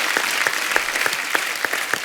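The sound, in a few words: studio audience applause on a talk show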